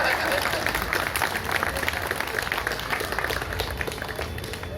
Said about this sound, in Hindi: सब लोग एक बार जोरदार तालियों के साथ में उनका स्वागत करें